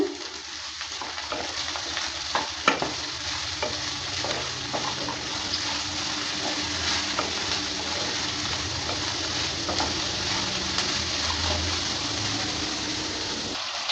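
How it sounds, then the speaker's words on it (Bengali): Chopped potatoes and gima greens sizzling in a pan, a steady soft hiss of frying with occasional scraping and stirring clicks, fairly quiet and continuous with no talking. "এবার দিয়ে দিচ্ছি আলুটা দেওয়ার পর ভালো করে আবারও নেড়ে চেড়ে নিচ্ছে"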